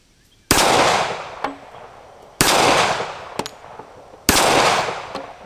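Three loud shots from a Colt MK IV Series 80 1911 pistol at steel plates, spaced about two seconds apart, each a sharp crack with a long echoing decay and a faint metallic ping of the steel.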